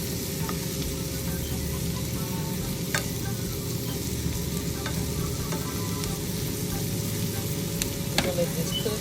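Chicken thighs and legs sizzle and fry steadily in a pan, a continuous dense crackle with a few sharper pops and no talking.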